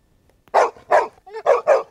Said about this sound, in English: It was a barking dog, right?